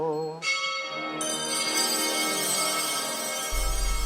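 Church bells ring out at the Easter Vigil in Jerusalem, bright clanging tones sustained and overlapping, close and fairly loud.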